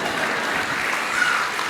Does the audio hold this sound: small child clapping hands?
yes